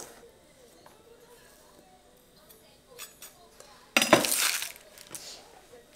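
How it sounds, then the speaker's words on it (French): A knife roughly chops raw onion on a board: a few light taps, then a louder burst of clattering cuts near the end, with no voices. "je le coupe quand même grossièrement pour avoir des beaux morceaux d'oignon"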